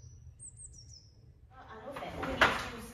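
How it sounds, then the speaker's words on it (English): Birds chirp faintly at first, then a brighter burst of calls rises over a soft outdoor hiss, peaking sharply near the end. "Just listen to the birds."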